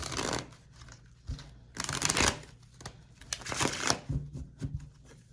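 Repeated bursts of tarot cards being shuffled up close, rapid riffling in several waves with short pauses between.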